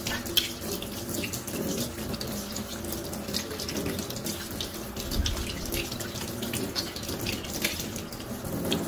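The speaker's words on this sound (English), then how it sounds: "Rinse your hands thoroughly under hot running water." Hands being rinsed under a running hot-water tap, with a steady close hiss of flowing water and splashing at the sink, continuing without a break and with no voices.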